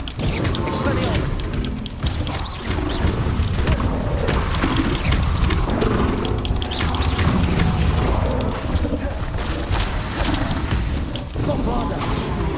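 Repeated Bombarda blasting spells bursting in a Hogwarts Legacy battle, heavy booming explosions and crashing debris piling up densely over combat noise and voices.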